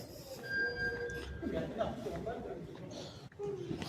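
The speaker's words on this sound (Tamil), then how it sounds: "மினிஸ்ட்ரி ஆஃப் இன்டீரியர் பக்கம் உள்ள ஒரு ஸ்டேஷன் இது மெட்ரோ ஸ்டேஷன்" A Riyadh Metro train at the station: a rumbling rail hum with faint tonal whines and squeals, under a person talking.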